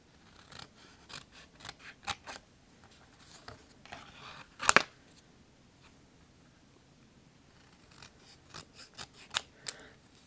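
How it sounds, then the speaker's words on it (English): Scissors snip paper repeatedly at close range while making a card, in irregular bursts, with a quiet pause in between and a few sharper, louder cuts. "I can fix it with my scissors"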